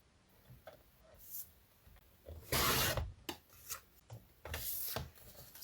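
Plaid fabric strips trimmed with a cutter during quilting, giving soft scraping rubs and one louder, longer rasping pass in the middle, close and quiet with faint ticks between strokes and no talking.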